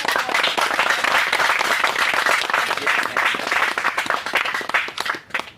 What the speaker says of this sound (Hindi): तालियों में जो है कमियां ना रखें